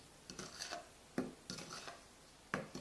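Dry muffin ingredients, sea salt and ground cinnamon, mixed in a bowl with a utensil, giving several short scraping and clinking strokes in an irregular rhythm, fairly quiet and close, with no talking.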